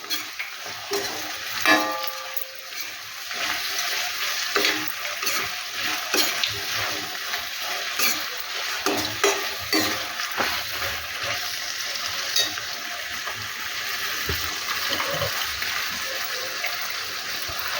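Chopped onion and capsicum pieces fry in a pan for pav bhaji, making a continuous sizzle broken by repeated scraping stirs and clatters, close and fairly loud, with no talking.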